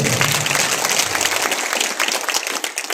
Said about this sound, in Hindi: एक बार सभी मिलकर जोरदार ताली बजा दी इस बात को।